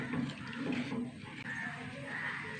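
Thick salted rice starch water comes to a boil in a pan with chili, giving a steady, soft bubbling and simmering hiss that stays fairly quiet and even throughout.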